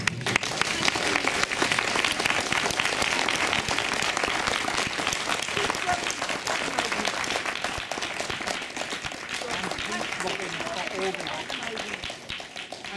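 Audience applause thanking the panellists at the close of a tax avoidance discussion event, a steady, full round of clapping from a large crowd lasting throughout, fading slightly at the end.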